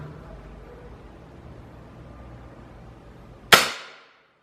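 Single sharp spring-piston discharge from a Norica Storm 4.5 air rifle firing a heavy 10-grain Crosman pellet, a loud close crack with a short decaying tail after a quiet lead-in, no talking.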